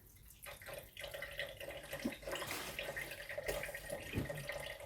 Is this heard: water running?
yes